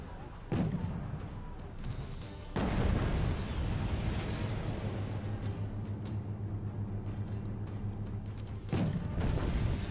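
Napalm strikes from the Wargame: AirLand Battle strategy game: loud, sustained roaring fire-and-explosion rumble with heavy low thuds, sharp bursts starting near half a second, two and a half seconds and near the end, continuous throughout.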